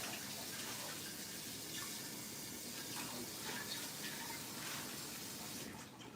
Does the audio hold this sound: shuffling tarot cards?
no